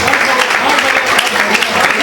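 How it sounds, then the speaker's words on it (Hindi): Enthusiastic audience applause at a Hindi comedy poetry stage show, a continuous burst of crowd clapping with some voices mixed in, loud and close. "जोरदार ताली बजाओ"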